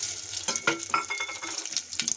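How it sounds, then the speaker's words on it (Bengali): Whole spices (cumin, cinnamon, bay leaf, dried red chilies) and green chili crackle in hot oil inside a pressure cooker. It is an uneven run of close, spitting sizzles and sharp pops. "রান্নাটা আমি কুকারেই করব, তাই ফোড়ন দিয়ে দিচ্ছি।"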